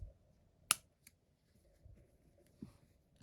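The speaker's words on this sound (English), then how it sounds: "I'm going to cut it." Scissors snip through crochet yarn in one crisp, close cut, then a couple of faint handling clicks in a quiet room.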